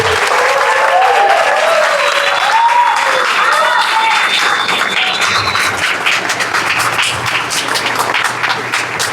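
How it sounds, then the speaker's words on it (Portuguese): Dense, sustained applause from an audience at a game jam awards ceremony, loud and steady throughout, briefly tapering near the end. "receber com aplausos muito acalorados"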